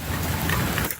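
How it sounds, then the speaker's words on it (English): Steady rain hisses down outdoors around a 1978 Honda Civic 1200 project car, a brief, even wash of noise with no voices. "The rain's coming down now"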